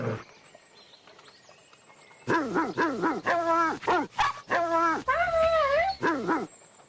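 Seymour, a video game dog, gives a run of loud, close barks and yips in quick succession, with a whimpering, wavering whine between bursts after a quiet lead-in.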